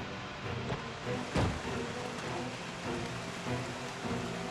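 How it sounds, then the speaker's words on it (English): Rain in Project Zomboid, a steady soft hiss of rain on surfaces with a brief louder patter, fairly quiet throughout with no voices. "Oh, it's super rainy out."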